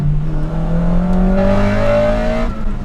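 A 2023 Acura Integra engine revs hard toward its 9,000 RPM limit, its pitch rising steadily through the gears, loud and close with no talking.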